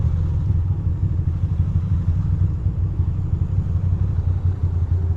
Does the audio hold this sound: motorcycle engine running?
yes